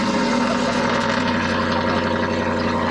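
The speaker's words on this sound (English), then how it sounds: "We put a custom exhaust on the truck." A Ford Raptor truck with a custom exhaust idles steadily, a loud, low, even rumble with a constant drone and no voices.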